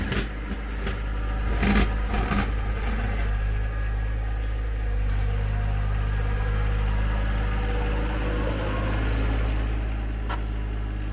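John Deere 1025R compact tractor engine runs steadily while packing snow on a gravel driveway, a constant low drone with a few clanks and rattles early on.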